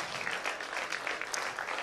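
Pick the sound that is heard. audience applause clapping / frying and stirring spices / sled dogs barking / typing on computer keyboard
audience applause clapping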